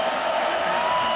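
A sellout crowd of 80,000 in a college football stadium before kickoff, UCF against South Carolina in 2005, forms a loud, continuous wash of roar and chatter with no single voice standing out.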